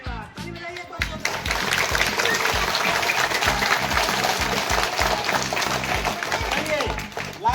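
Children applaud together at an Independence Day celebration, a dense burst of clapping that starts after a brief pause and continues steadily and loudly, with voices mixed underneath.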